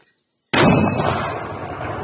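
One loud, sudden mortar blast erupts after a moment of silence, fired by a Ukrainian territorial defense mortar crew in combat, followed by a long rumbling boom that slowly fades.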